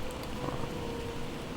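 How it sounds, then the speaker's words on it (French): Steady rain falling in a Roblox game, a dense even hiss of drops running unbroken at moderate level with no talk over it. "Il y a de la pluie."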